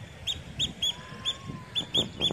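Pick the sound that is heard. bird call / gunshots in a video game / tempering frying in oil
bird call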